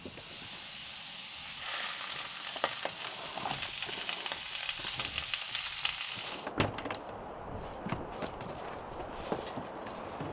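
Vegetables frying in a single skillet at an off-grid forest campsite, a steady loud sizzle that drops away partway through, leaving quieter crackles, clinks and scattered handling noises.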